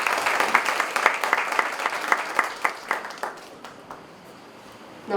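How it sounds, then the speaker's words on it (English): Audience clapping at a national conference, a burst of dense applause that thins into scattered claps and fades out over about four seconds. "I request a huge round of applause."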